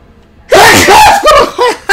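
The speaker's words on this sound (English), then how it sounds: "I had to sneeze." A single loud, close human sneeze bursts out after a moment of quiet, followed by a few short breathy gasps or snickers.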